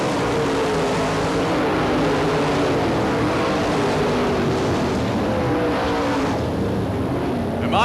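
UMP late model race cars roar around the Barberville, Florida dirt track during Florida Speedweek, a loud, continuous blend of engines rising and falling in pitch as cars pass, with no talk over it.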